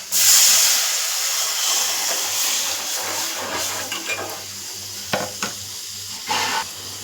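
Rasam with tomatoes pours into a hot pan with a loud hiss that settles into a sizzling simmer, followed by a few sharp clinks.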